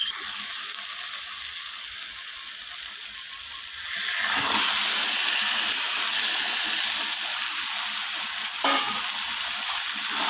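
Marinated chicken drops into hot spiced masala and oil for a chicken curry, setting off a loud, steady sizzle and crackle that swells after the pieces go in, with a stirring scrape near the end.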